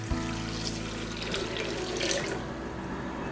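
Water pours steadily and fairly loudly into a mixer jar holding mint, lemon pieces and black salt for lemon mint juice, a continuous close gush that runs alone and eases slightly toward the end.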